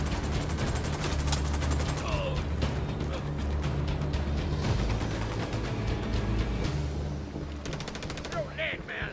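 Apache helicopter in Ghost Recon Fallen Ghosts, firing sustained rapid machine-gun bursts over a heavy continuous rumble that stays dense and loud throughout, easing slightly near the end.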